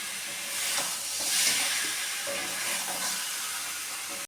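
Potatoes and eggs sautéed in a spiced masala for a light Bengali egg curry, giving a steady close hiss and sizzle with a few faint stirring scrapes throughout.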